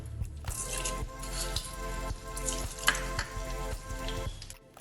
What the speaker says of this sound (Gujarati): બધો ગુંદર તળાઈ ગયો છે